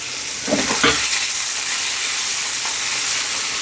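Greens hit a hot pan and sizzle with a broad, steady hiss, with a couple of stirring scrapes near the start before the frying settles.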